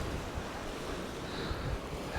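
Steady wind blowing across a beach during a fishing session, a constant low rushing roar over the microphone with surf noise mixed in, no voices.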